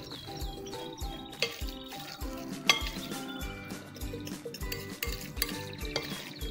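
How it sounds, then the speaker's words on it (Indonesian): A utensil stirs tofu and egg batter with cooking oil in a bowl, giving steady rhythmic scraping with light clinks against the dish. The sound is close and moderately loud, with no talking. "Aduk kembali ya agar semuanya tercampur dengan rata."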